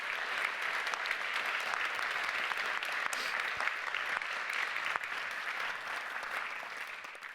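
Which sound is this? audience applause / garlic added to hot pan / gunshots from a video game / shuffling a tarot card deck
audience applause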